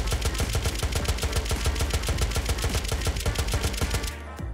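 Rapid, steady bursts of automatic gunfire pound at a mecha zombie in the survival game Unturned on the Escalation map, loud and close, shot after shot for several seconds before a brief reload clatter at the end.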